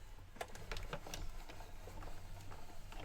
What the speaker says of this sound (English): So I'm going to put that right on top of our little sandwich here with a cutting pad on top and underneath and crank that through.